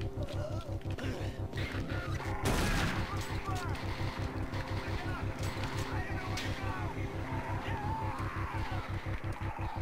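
Shotgun blasts from the video game Doom 3 BFG Edition, a loud burst standing out amid dense game noise with continuous rhythmic background sound and a voice talking throughout.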